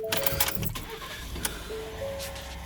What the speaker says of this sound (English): I'm going to crank up the vehicle here